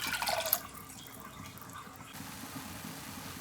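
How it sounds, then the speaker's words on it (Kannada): A cup of water poured into a cooking pot of ghee rice and milk, a short, bright splash of liquid at the start that fades quickly into a faint, quiet kitchen background. "ಈಗ ಇನ್ನೊಂದು ಕಪ್ಪು ನೀರು."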